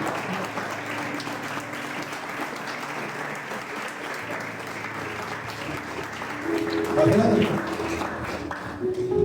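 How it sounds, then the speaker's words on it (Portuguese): A church congregation applauds during a service, a continuous wash of clapping that swells louder near the end. "Vamos aplaudir ao Senhor."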